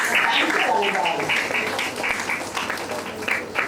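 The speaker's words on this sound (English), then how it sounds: "Please join me in welcoming Radha Ganesh ma'am and Bhuvaneshwari ma'am with a big round of applause" An audience in a college hall gives a round of applause, a dense patter of many hands clapping that continues steadily and slowly thins out, with a voice speaking over it.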